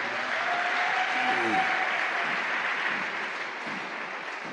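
A church congregation breaks into loud, sustained applause close by, with a cheering voice briefly rising above the clapping before it eases slightly toward the end.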